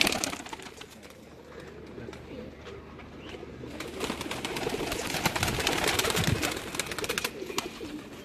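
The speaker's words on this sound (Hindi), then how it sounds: "ये गोल्डन कबूतर है" Golden pigeons on a rooftop loft give off repeated low cooing among other pigeon calls and wing flutters, steady and fairly close, with a busy outdoor background and no talking.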